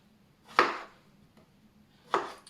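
Two distinct knife chops through fresh strawberries on a cutting board, each a crisp close thud with a short decay, spaced about one and a half seconds apart in a quiet kitchen.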